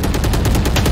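Rapid automatic gunfire rings out in a competitive video game match, a quarterfinal between Rise Gaming and Rolo Compressor. It comes as a loud, fast burst of closely spaced shots lasting about a second.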